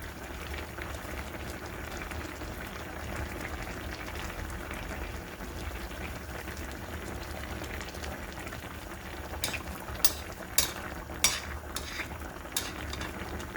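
Mackerel and aged kimchi braise bubbling steadily in a pot, a soft continuous simmer with a few sharper clinks and scrapes of stirring near the end.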